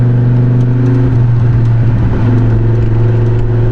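An Audi Quattro's engine drones steadily and loudly while driving, a constant low hum with no talking.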